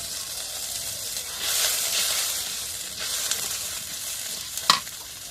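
Garlic and ginger paste is stirred in a hot pan, giving a steady close sizzle with soft scraping swells and one sharp utensil clink near the end.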